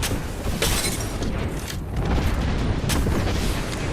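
A grenade blast in the battle-royale shooter Apex Legends, heard as a dense, sustained booming rumble with crackling debris, steady and loud across the whole moment, no talk.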